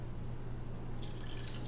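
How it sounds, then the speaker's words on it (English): Beer pours into an aluminium Miller Lite can, with a steady liquid rush and bright splashing fill sounds growing in the second half, heard close up over a low background hum. "I'm going to pour this beer in this Miller Lite can here."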